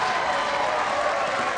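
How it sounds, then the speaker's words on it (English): A ten-pin bowling crowd at the Weber Cup cheers loudly and steadily, a dense roar of applause and shouting that fills the whole moment without a break. "That might be the biggest cheer of the night"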